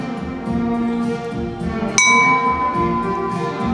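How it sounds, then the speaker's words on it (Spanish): Struck Talavera ceramic pottery from Puebla rings out like a bell near the two-second mark, a single clear strike whose bright tones sustain and slowly decay over a murmuring indoor background. "Se le dice el canto de la talavera al sonido de la campana."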